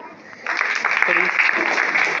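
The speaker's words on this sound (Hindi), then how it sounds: "तालियां भाई" Applause breaks out in a school classroom seminar on environment and vegetarianism, a dense, steady patter of many hands that starts abruptly and continues evenly, with a faint voice beneath it.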